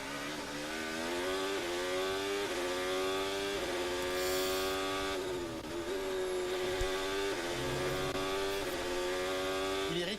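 Formula 1 car lapping the Shanghai Grand Prix circuit, a loud sustained high engine whine rising and dropping through gear changes, with brief scraping rattles as the car rides over bumps.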